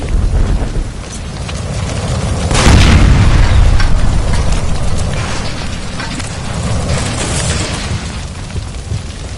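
A gas line blows up in a stovetop room in the game L.A. Noire, a sudden loud boom with a rumbling low roar that swells and lingers over several seconds of mechanical clatter and debris.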